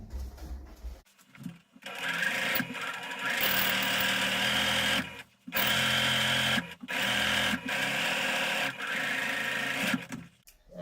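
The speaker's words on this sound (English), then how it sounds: "I'm going to take this to my sewing machine and I am going to stitch along where I just pressed." Sewing machine stitching along a pressed seam in pillow fabric, loud steady whirring runs broken by several short stops and restarts, close up with no talking.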